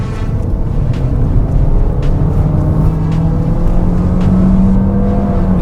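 Engine of a Lexus UX200 on a test drive in Malaysia, a steady loud cabin drone with a tone that slowly rises as the car accelerates, heard alone without talking.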